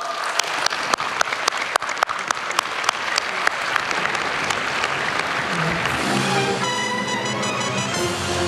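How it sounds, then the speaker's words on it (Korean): An audience applauds at a presidential press briefing at Dongdaemun Design Plaza in Seoul. A few sharp separate claps grow into dense, loud crowd clapping, which thins near the end as other sounds come in. "다시 한번 큰 박수 부탁드리겠습니다."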